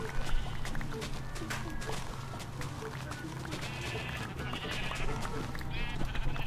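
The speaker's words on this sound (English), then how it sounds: "somebody could say that those cows and sheep are really loud" Sheep bleat in Minecraft, several wavering bleats rising over busy game ambience with footstep-like ticks, while a voice talks underneath.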